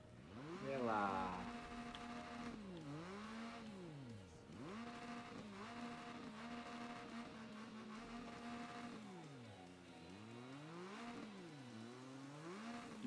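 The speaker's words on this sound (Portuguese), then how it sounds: "Vamos também ouvir o ronco da moto." Triumph Street Triple R motorcycle engine in the Ride 3 racing game, revving up and down through repeated gear changes in a rising and falling whine, steady and fairly close throughout.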